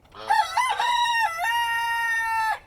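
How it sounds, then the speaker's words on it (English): A small silky bantam rooster crows once up close, a high, thin, drawn-out call with a choppy start and a long held ending. "So now we have 1 rooster, and he's tiny, adorable, and he makes a really fun sound."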